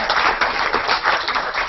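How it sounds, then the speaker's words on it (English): A crowd applauds the organizers of the International Space Apps Challenge presentations in San Francisco, with steady, dense clapping that runs through the whole moment without a break. "So we can give everyone a round of applause for the organizers."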